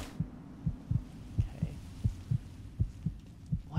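Heartbeat in the video game Fallout 3, a steady run of about a dozen soft, low thumps in paired beats, close and alone over a faint hum.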